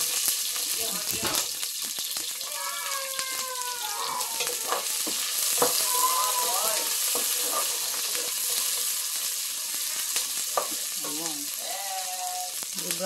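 Garlic and onion frying in oil for sweet and sour sardines, a steady crackling sizzle with stirring clatter, while a voice speaks at times over the cooking.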